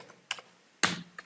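A handful of separate keystrokes tap on a computer keyboard, close and clear, spread unevenly across a brief quiet moment.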